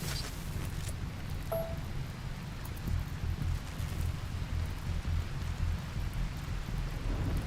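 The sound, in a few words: rain falling in RimWorld video game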